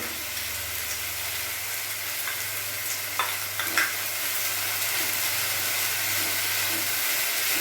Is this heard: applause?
no